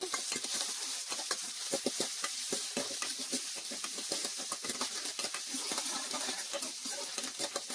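Dried chillies, curry leaves and chopped onion sizzle in hot oil for a Telugu tempering, a steady dense crackle with repeated stirring scrapes and no talking.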